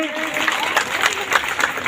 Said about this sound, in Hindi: ताली, जोरदार ताली बजाएंगे।